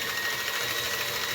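An electric mixer whirs steadily at low speed, beating carrot cake batter with butter and vanilla in a bowl, a close, continuous high hum with no voices.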